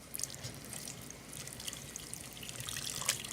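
Beef broth trickles steadily into a meat pie filling while it is slowly stirred, a soft, continuous pouring and splashing sound that is close and fairly quiet, with no voices over it.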